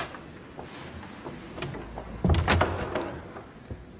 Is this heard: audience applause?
no